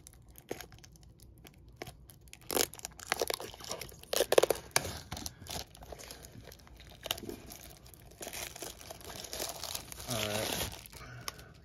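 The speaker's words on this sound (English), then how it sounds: "I'm gonna get the box all cut open before we start. That way the seal's broken." A trading card booster box has its plastic seal cut and torn open, with crinkling, ripping bursts of wrapper, close and fairly loud, scattered over about ten seconds with a longer tearing stretch near the end.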